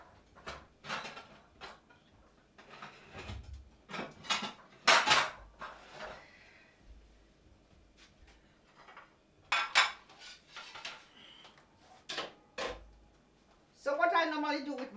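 Plates and cutlery clatter in a home kitchen as a plate is fetched from a cupboard, with several sharp clinks and knocks spread out, close by, amid occasional speech.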